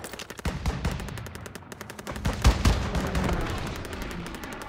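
Dense Call of Duty WW2 gunfire: rapid machine-gun bursts and rifle shots crackle nearly nonstop in a loud battlefield mix, with a heavier blast near the middle.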